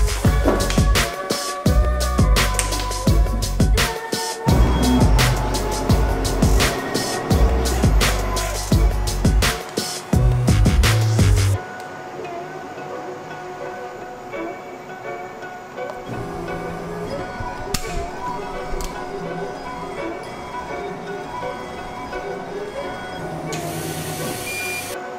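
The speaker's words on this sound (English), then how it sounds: "I will quickly laser that to see if everything is fine" A laser cutter works on plywood to cut two test holes, giving loud, busy mechanical whirring and clattering for the first half, then dropping to a quieter steady fan hum with a few faint clicks.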